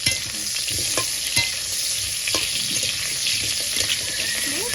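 Koi fish with turmeric and salt frying in a pan: constant close, hissing sizzle with occasional sharp pops and light scraping, steady and loud throughout.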